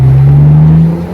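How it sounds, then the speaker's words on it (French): BMW Z4 convertible engine revving under acceleration with the top down: a loud, steady low droning note that holds for about a second, close and alone with no talk. "le bruit du moteur est juste incroyable"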